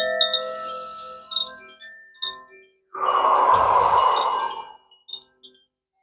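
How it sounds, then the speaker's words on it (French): A long, slow deep breath taken during a sound-healing session, a steady breathy rush rising out of soft ringing resonant tones that linger and fade around it. "Je vous invite à prendre une grande respiration."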